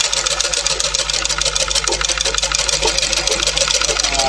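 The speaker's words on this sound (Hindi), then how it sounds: "बाद में हम मशीन पर उसकी सिलाई डाल सकें" A sewing machine stitches piping onto fabric in a tailoring lesson, running in a fast, steady mechanical chatter of needle strokes close to the listener, with no pauses through the clip.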